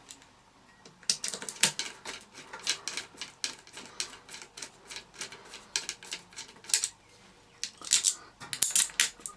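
Small metal screws clicking and clattering as they are handled while assembling an Oreck XL2 upright vacuum, a run of sharp, close, irregular taps and rattles with brief pauses.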